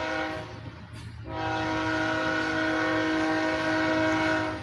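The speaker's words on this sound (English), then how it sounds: "I got 2 trains passing through" Two trains pass through nearby, a loud steady rumble of rail cars with sustained horn tones sounding over it for several seconds, no voices.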